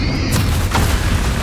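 A spell blast goes off in the Hogwarts Legacy final boss fight, heard as loud, dense booming bursts that swell in two strong hits over a constant roar of game combat noise.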